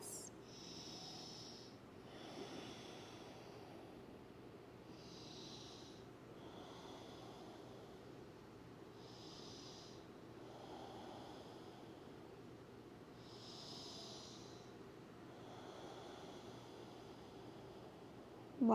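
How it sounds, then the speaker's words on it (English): Slow, deep breaths during a restorative relaxation exercise for shoulder and chest relief, heard as soft airy inhales and exhales repeating every few seconds at a steady, unhurried pace, quiet and close, with no talking. "We just have 5 more breaths."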